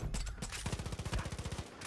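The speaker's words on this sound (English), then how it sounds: "That's a lot of gunshots for one dude." Rapid gunfire in the Far Cry 5 video game, a fast burst of repeated shots under loud ambient game noise, lasting under two seconds.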